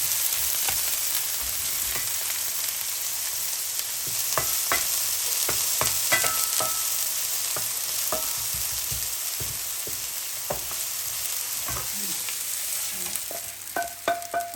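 Chopped onions fry in oil in a soup pot while a spoon stirs them: a constant close sizzle runs throughout, broken by irregular scraping and clinking of the utensil against the pot, with no talking.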